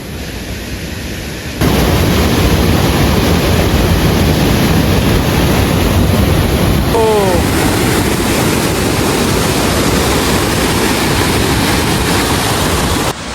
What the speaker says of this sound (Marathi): खूप जास्त फ्लो आहे इथे पाण्याचा